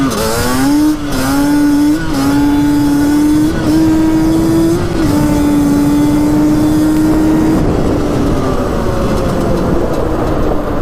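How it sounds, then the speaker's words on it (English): A Racing Banshee ATV power shifting on a road, its engine holding a loud, buzzing high-revving drone with quick dips at each shift, close and continuous before easing off near the end. "Let's try power shifting down the road here quick. See what that sounds like."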